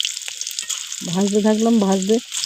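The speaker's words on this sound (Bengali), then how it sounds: "ভাজতে থাকলাম" Raw banana kofta mixture, bound with salt, sugar and flour, fries in hot oil with a steady, close hissing sizzle. A brief humming voice rises over it partway through.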